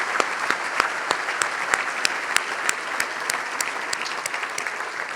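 An audience at a business celebration claps steadily for an award winner, a dense wash of applause with sharp individual claps standing out throughout, fairly close and sustained with no talk.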